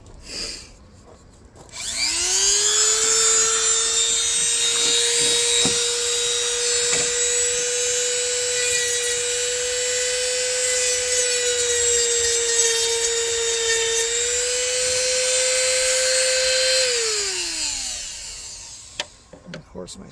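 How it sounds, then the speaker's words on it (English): A Dremel rotary tool fitted with a small sanding disc grinds away material on a Volkswagen MK8 GTI carbon fender. It gives a sustained high-pitched whine, loud and close, that spins up, holds steady for about fifteen seconds, then winds down. "We're going to put a little sanding disc on our Dremel"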